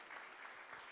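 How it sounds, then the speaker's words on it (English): Audience applause for presenters at a talk on intellectual property challenges in Zimbabwe, a steady, fairly faint wash of clapping lasting about a second with no voices. "A round of applause for our presenters, please."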